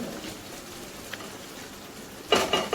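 Paneer is stirred into a butter masala gravy in a pan: a soft, steady sizzle runs beneath, then a short burst of louder scraping and bubbling at the end, with no talking.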